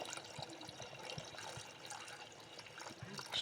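Water is poured into a pressure cooker holding rice for tomato biryani, making a faint, steady trickling and splashing with no voices.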